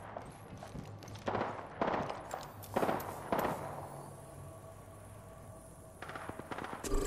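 Gunfire in the battle royale shooter Apex Legends, with several sharp shots and short bursts spaced over a few seconds and a quieter pause between them.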